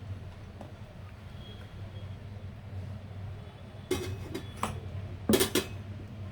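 Homemade chocolate lassi is poured from a blender jar into a glass: a quiet kitchen background, then two short bursts of splashing and clinking, the second louder.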